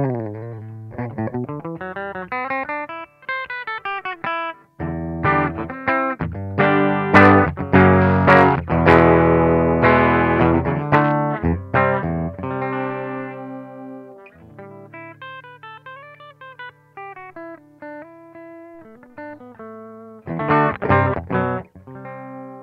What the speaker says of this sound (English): the clean sound of my guitar without any compression